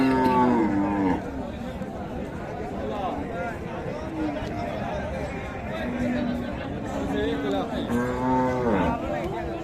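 Cattle lowing at a busy livestock market in Dinajpur, with several drawn-out moos rising over steady crowd chatter and nearby talk.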